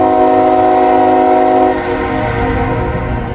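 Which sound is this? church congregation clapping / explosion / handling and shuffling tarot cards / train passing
train passing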